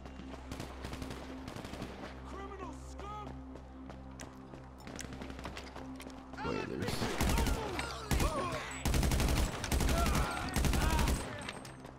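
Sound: fully automatic shotgun gunfire in GTA V video game

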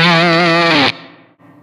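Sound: fuzz pedal guitar with long reverb trail

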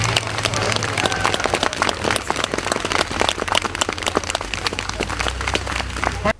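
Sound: spectators applauding a demonstration performance

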